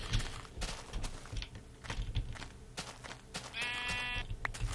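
Sheep bleating in the Minecraft video game, a short wavering bleat near the end over a busy bed of clicks and game noise, with no talking.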